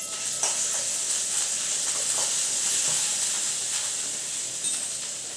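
Ginger paste frying in hot oil in a pan, giving a steady, close, bright sizzle and hiss throughout, with faint stirring scrapes and no talk.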